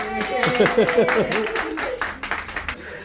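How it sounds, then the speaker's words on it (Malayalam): Audience members clap for the winner of a lively contest, a quick run of claps mixed with overlapping voices and chatter throughout. "എല്ലാവരും ഒന്ന് കൈയടിച്ച"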